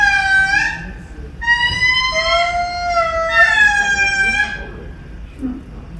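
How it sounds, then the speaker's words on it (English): Three endangered lemurs calling from a tree in Madagascar: loud, wavering whistle-like wails rising and falling in several overlapping phrases, with a short low thump near the end. "And this particular lemur is so endangered."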